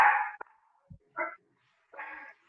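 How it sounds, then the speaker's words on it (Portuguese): A small dog barks several times in the background of an online meeting, a few short yips and barks spaced unevenly with gaps of silence, heard faintly through a remote participant's open microphone. "Eu estou ouvindo um cachorrinho aí."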